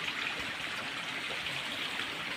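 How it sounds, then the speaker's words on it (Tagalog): A mountain stream flows with a steady, broad hiss of running water, unbroken and fairly close, with no voices over it. "Diyan ay sapa na."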